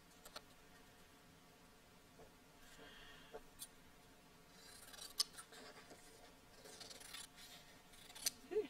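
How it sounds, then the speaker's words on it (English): Scissors snip paper for a handmade card, faint close-up cuts and light rustling scattered across a quiet room with no voices. "So now I've got this lady concentrating away here using her fulcrum and her scissors."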